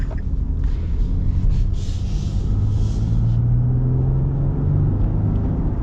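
A 2024 Nissan Frontier pickup with a naturally aspirated engine, heard from inside while driving: a steady, loud engine rumble and road drone that gently climbs in pitch, with no talking.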